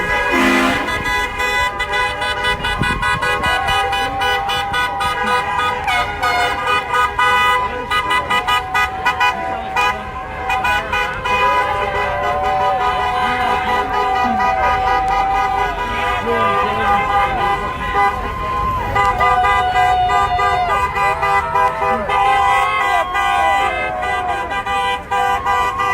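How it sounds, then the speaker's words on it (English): Loud, dense din of car horns blaring continuously from passing traffic at a street protest outside the Minnesota governor's mansion, overlapping toots and sustained honks without pause, with voices mixed into the crowd noise. "Still cars driving."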